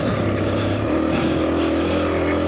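A Suzuki DRZ250 trail motorcycle engine runs steadily on the Kelly Loop, its loud, continuous drone shifting pitch slightly as it holds a constant note, with no talk over it.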